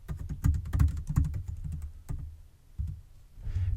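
Fingers type quickly on a computer keyboard nearby, giving a burst of crisp, irregular key clicks and thumps, then a pause and a few scattered keystrokes.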